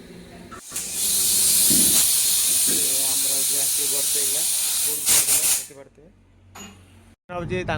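A loud, steady hiss of LPG gas escaping while being transferred from a big cylinder into a small one, lasting several seconds, then cutting off, with a voice heard briefly around it.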